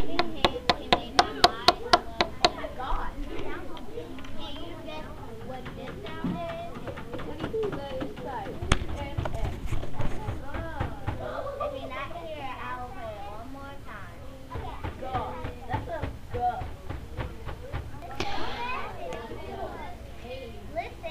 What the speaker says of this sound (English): That sound was me hitting a pencil on a table.